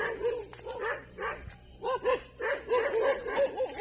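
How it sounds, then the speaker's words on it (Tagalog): Many dogs barking and yipping together at night, a noisy overlapping chorus of bow-wows and whimpers at moderate distance, steady and continuous. "Sobrang daming aso."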